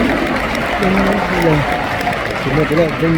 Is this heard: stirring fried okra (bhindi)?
no